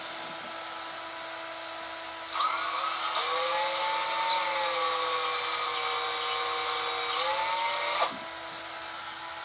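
Power drill spinning a small drill bit, a high whine starting abruptly, holding steady for several seconds with a slight pitch drop under load, then cutting off.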